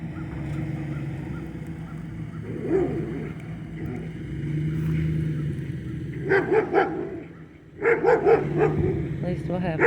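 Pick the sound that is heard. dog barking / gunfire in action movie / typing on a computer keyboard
dog barking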